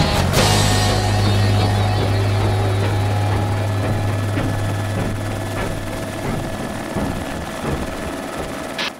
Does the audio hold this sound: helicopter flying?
yes